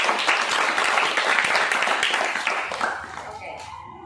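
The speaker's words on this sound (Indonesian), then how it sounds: "Tepuk tangan untuk kalian semuanya." A burst of dense applause from a class of students, many hands clapping together, fading out over the last second.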